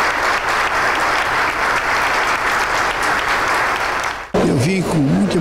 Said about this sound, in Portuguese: No fim, o senador foi aplaudido de pé